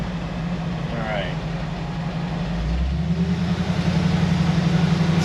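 1966 Ford F100 shop truck with 302 V8 and four-barrel carburetor, engine droning and building under throttle with a steady pulsing rumble from inside the cab, while people talk over it.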